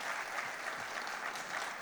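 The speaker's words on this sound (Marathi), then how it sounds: "मी मगाशी सांगितलं होतं की टाळ्या थांबल्या नाही पाहिजेत आणि जोरात वाजल्या पाहिजेत" An audience at a cricket-themed event gives sustained, even applause, many hands clapping together at moderate volume for the full stretch.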